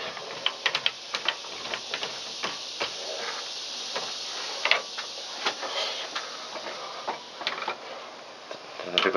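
A chain-type cast iron pipe cutter is tightened around the pipe, making a run of irregular ratcheting clicks and metallic ticks, fairly close and clear against a steady background hiss.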